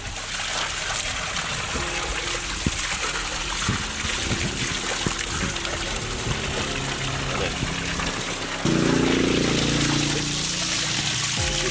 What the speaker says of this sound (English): Most people here live by spring water. So this is where we get our water to drink